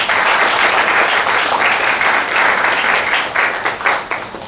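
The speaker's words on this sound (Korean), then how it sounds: "다시 한번 큰 박수 부탁드리겠습니다." Loud audience applause closing a university design forum lecture, thick continuous clapping that thins and tapers off near the end.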